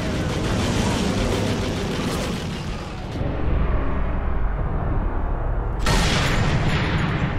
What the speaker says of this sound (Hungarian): Majd meg kell szokni ezt a lövöldözést.